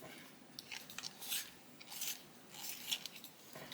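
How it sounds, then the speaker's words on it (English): A colored pencil being turned in a small Staedtler handheld sharpener makes faint, close scraping and rasping strokes in short uneven bursts. "I'm just going to sharpen."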